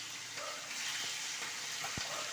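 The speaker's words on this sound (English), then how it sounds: "I'll put in some fish now, them go and fry" Fish frying in a pan, Jamaican style, produces a continuous crackling sizzle with a few faint pops and stirring sounds, close and even, with no voices.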